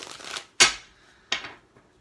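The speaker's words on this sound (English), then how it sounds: "some people like to see the cards shuffled." Tarot cards riffle and snap together in two quick, crisp bursts close by, with a soft shuffling rustle before them.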